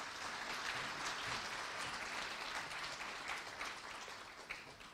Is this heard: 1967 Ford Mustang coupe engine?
no